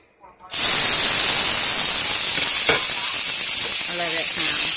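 Onions sizzling hard in hot canola oil in a pan, a loud, steady frying hiss that bursts in suddenly and fills the clip, with a few faint clinks and a brief voice near the end.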